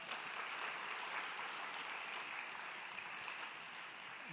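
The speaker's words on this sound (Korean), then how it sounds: "이수만 대표님하고 최재천 교수님한테 뜨거운 박수 한 번만 더 쳐주시기 바랍니다." A large conference audience at the 2023 WCIF science forum keeps up a continuous wash of applause, fairly soft and distant, holding evenly for over four seconds with no voices above it.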